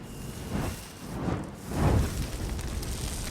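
Deep rumbling blasts swell and fade in two or three heavy waves as a siege weapon is destroyed in Elder Scrolls Online, with a rushing, crackling tail and no voices.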